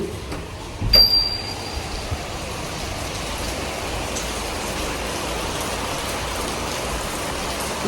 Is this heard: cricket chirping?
no